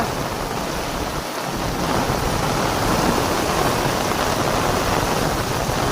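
Loud, steady downpour of heavy rain in a windstorm with a deep rumble of thunder rolling underneath, continuous and close, no voices.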